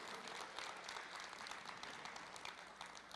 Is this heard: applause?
yes